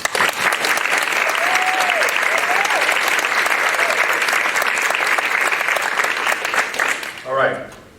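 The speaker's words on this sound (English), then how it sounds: "I think it's appropriate that we give these young men and women a round of applause" An award ceremony audience gives steady, full applause for young honorees for about seven seconds before it cuts off sharply. Brief speech follows at the end.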